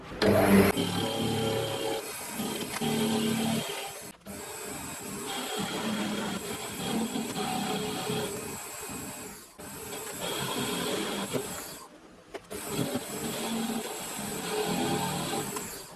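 A lathe machines down a cast aluminium part for a tensegrity sculpture, giving a steady, loud whirring cut that runs in long passes, stopping briefly three times before resuming.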